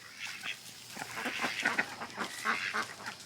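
Ducks at a pond in a front yard, a flock quacking and honking continuously at moderate distance, overlapping calls with no talk.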